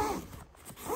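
A tent zipper on a Gazelle T-4 Overland tent is tugged in a short, tight rasping pull, close and moderately loud, with a brief lull midway and no talking.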